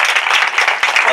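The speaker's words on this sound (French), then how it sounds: "on peut l'applaudir bien fort, s'il vous plaît" Enthusiastic applause from a cabaret audience in a restaurant, loud and dense with many hands clapping quickly and unevenly, close and continuous for about a second.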